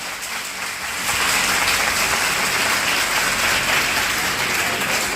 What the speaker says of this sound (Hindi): केवल लड़कियां ताली बजाएंगी, जोरदार तालियां।